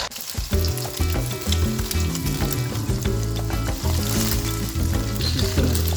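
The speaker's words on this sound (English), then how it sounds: "Just gonna brown the garlic just a little bit." Garlic browning in a hot pan for a Thai dish alongside minced carrots and ground pork, a loud continuous sizzle with stirring clatter and music-like tonal layers running throughout.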